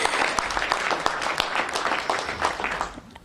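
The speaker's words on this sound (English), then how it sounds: "you can applaud" Applause from an audience at a Los Angeles press briefing on ending veteran homelessness, steady dense clapping close by for about three seconds that thins slightly at the end.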